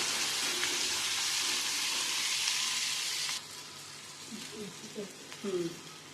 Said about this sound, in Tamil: தக்காளியை சேர்த்து நல்லா 2 நிமிஷம் வதக்கலாம்